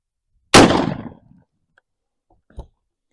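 A 12 gauge Winchester SX4 shotgun with a Muller choke fires a single number 6 game load, one sharp, loud blast that rings out and decays over about a second, followed by a faint distant knock.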